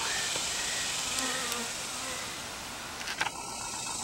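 Honey bees buzzing inside a bee removal box, a dense, steady hum held close and loud throughout, with a few faint clicks and brief handling noises near the end.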